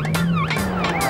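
A British police car siren wails in rapid rising and falling sweeps, loud and close, over a steady engine drone.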